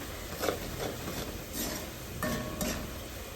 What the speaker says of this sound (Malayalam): ശേഷം അച്ചാർ കൊടുക്കും നന്നായിട്ട് ഇളക്കി കൊടുക്കണം